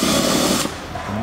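A power drill whirs loudly while drilling holes to fit side skirts on a BMW M3, a steady high whine for about half a second that then stops abruptly.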